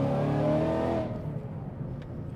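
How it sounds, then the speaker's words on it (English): A 2014 Shelby GT500's engine and exhaust rev loudly and up close, holding a strong, rich roar before dropping off into a lower, settling rumble. "I just love the sound of that exhaust."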